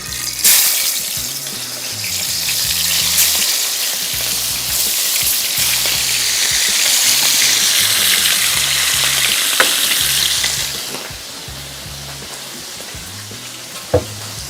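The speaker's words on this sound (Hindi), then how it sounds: "ये लीजिए, ऑयल गर्म हो गया, ये आ गई मछली" Fish fries loudly in hot oil, a dense, steady close sizzle that swells and then eases off near the end, with a sharp clink at one point and no speech.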